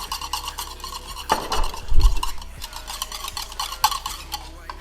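A whisk beats a vinaigrette of olive oil and vinegar in a bowl, fast rhythmic clinking and swishing up close, with one heavier knock partway through.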